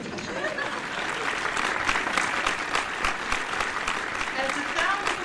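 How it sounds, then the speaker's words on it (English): Dense applause from a crowd in a 1940s Hollywood radio-show setting, a continuous rushing wash of many hands at moderate level, with a voice faintly mixed in. "As the sound of applause brings about the pause"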